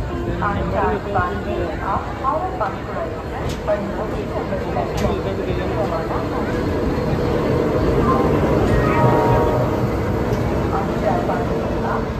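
A train stands at a crowded railway station platform in Patna, India, its rumble and horn-like tones steady and fairly loud beneath continuous chatter from many people waiting nearby.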